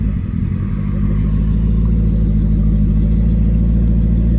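A 2018 turbocharged Coyote V8 with a 10-speed transmission is heard from inside while driving as a loud, continuous low engine drone that holds fairly steady, with no voices.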